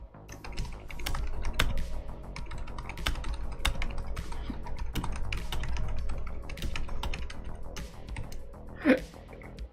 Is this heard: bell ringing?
no